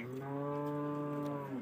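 A single cow gives a long, loud, steady moo at a cattle market in Pasar Wage Margorejo, Pati, sounding close and clear.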